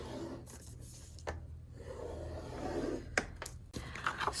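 Chipboard paper is scored on a scoring board for a mini album. A stylus makes a soft scraping, rubbing stroke across the board, followed by a few sharp taps and clicks near the end, close and quiet.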